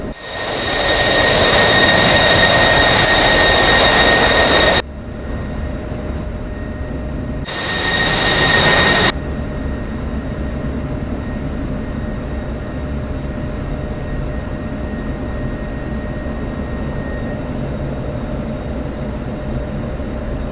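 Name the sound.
F-16 jet engine in a flight simulator video game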